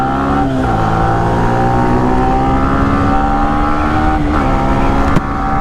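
A Kawasaki superbike fitted with a new modified exhaust holds a loud, close engine rev, its tone drifting gently up and down, with brief dips near the end.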